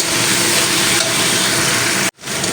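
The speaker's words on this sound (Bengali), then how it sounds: "আমি একই সঙ্গে আরও তিন থেকে চার মিনিট কষিয়ে নেব" Pumpkin, fried potatoes and Malabar spinach stems being sautéed in a pan give a loud, steady frying sizzle with stirring throughout, cutting out briefly near the end before resuming.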